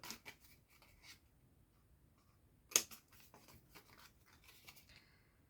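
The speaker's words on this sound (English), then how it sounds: "So grab your snips or your scissors, and you're going to cut away this top narrow piece" Quiet, crisp snips of scissors cutting paper card for a small gift box, a few scattered cuts with one sharper snip near the middle, close and alone.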